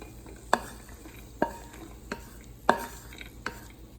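Cashews toasting in oil in a wok: a quiet background sizzle broken by several sharp scrapes and clinks of a spatula stirring against the pan, spaced irregularly, with no talking.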